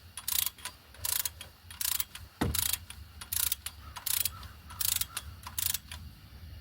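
A ratchet tightens a water pump bolt on a 2008 Dodge Charger, compressing a rubber gasket: close, loud bursts of rapid clicking repeat in a steady rhythm, about ten strokes with short pauses between, and no voices.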